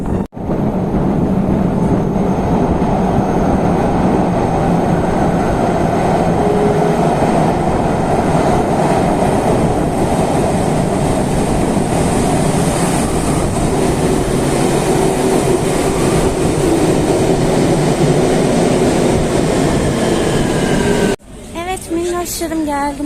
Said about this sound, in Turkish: Ben şimdi trene biniyorum